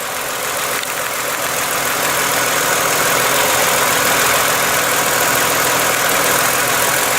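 A car engine idles at a steady 1000 RPM during fuel injector cleaning with a 3M cleaner and adapter kit, a loud, continuous close-up drone without pause or change in pitch.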